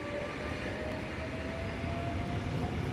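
Steady low rumble of a train rolling toward a platform at Opole Główne station, a continuous even drone with faint tonal whine, heard from the platform at moderate distance.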